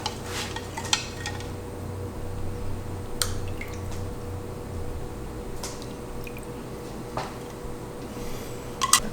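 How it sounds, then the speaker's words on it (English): A scarf is worked into a dye bath with vinegar, giving soft squishing and sloshing of wet fabric, with scattered light clinks of tools against the pot, close and fairly quiet. "I'm going to add this to the dye bath with some vinegar"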